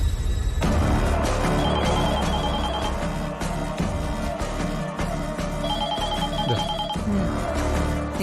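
A telephone rings after a number is dialed in a Malayalam TV serial scene, the bell repeating in a steady loud pattern with a bright tone, heard alone without talk.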